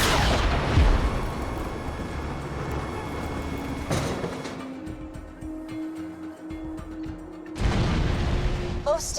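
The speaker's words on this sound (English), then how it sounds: "Please fire the cannon again." Cannon firing in the video game Borderlands 2, heavy booming blasts with a long rumbling tail, one near the start, another around four seconds and a third near the end, with in-game voices speaking.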